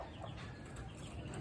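Faint, low clucking of chickens close by, soft and continuous against a quiet background.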